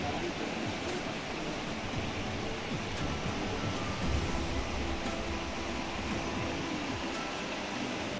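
River flowing past a mountain temple at Gupt Kashi near Ranikhet, a steady, broad rushing of water close by that holds an even level throughout without pause.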